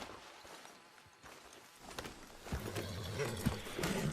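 Horse hooves clip-clop in Red Dead Redemption 2, faint uneven footfalls at first, then louder steady hoofbeats with a low snort or engine-like hum near the end.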